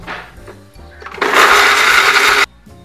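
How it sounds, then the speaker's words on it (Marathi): A kitchen mixer grinder loud and close for about a second, whirring as it blends modak filling of grated fresh coconut, jaggery, cardamom and fennel, after quieter handling sounds, then stopping abruptly. "आता आपण मिक्सरला लावून घ्यायचं सगळं।"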